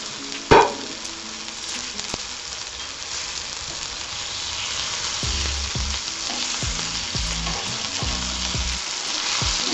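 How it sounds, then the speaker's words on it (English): Unfrozen chicken pieces sear in a hot pan with a steady, loud sizzle and crackle that runs throughout, opening with a sharp clatter as the meat goes in and with scattered pops and thumps toward the end. "Okay, so we're going to grill our chicken."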